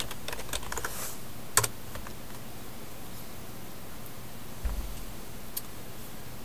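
A command is typed on a computer keyboard, with soft irregular key clicks tapping close by in a quiet room and a couple of sharper keystrokes standing out.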